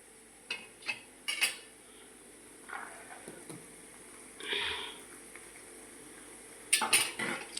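Utensils clink and a spoon scrapes a pan as garlic goes into kantola (spiny gourd) vegetable being cooked, a few sharp metallic taps over a soft background hiss, with a brief faint sizzle midway.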